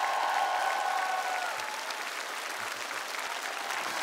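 A studio audience at a television music show season finale breaks into steady, sustained applause, a dense wash of clapping that holds loud and even throughout without any voices standing out.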